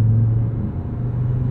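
A 2022 Audi RS3 accelerates in fourth gear at half throttle, heard from inside as a steady, loud low engine rumble with a droning tone and no talking.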